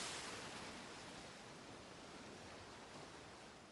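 Waves crash on a shore in the visual novel Umineko, heard as a steady, faint wash of broad surf noise that barely changes, with no voices.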